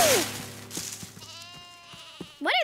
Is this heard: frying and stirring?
no